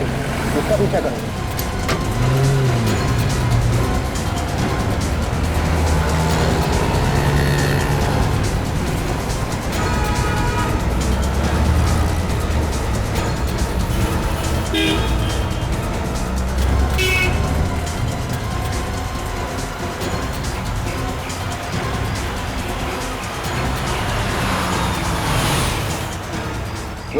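Road traffic and vehicle engines rumble steadily during a crime-drama car chase, with horn toots, loud and continuous, while voices speak over the traffic.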